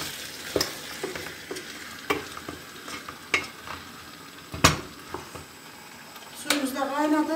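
Chopped garlic fries in a pan with a low steady sizzle, as a utensil scrapes and knocks against the pan in irregular strokes, and a voice comes in near the end.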